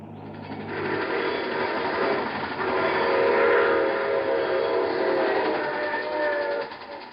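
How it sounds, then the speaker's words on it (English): Train sound effect from an old-time radio drama: a steady, loud rumble of rolling rail cars with clacking and a sustained whistle-like tone running through, no voices. "I take this same train every week at this time."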